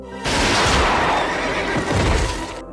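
A horse gives one long, loud whinny in a western film scene, filling nearly three seconds and heard alone with no talk.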